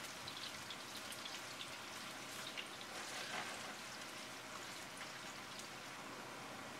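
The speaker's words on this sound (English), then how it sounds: "add the grated potato into the pan. And fry everything together for 2 minutes" Grated potato frying in a pan, a dense continuous close crackle and hiss that runs evenly throughout without talking.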